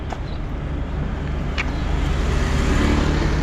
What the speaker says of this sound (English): Water truck.